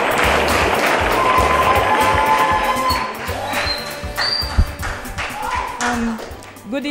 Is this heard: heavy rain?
no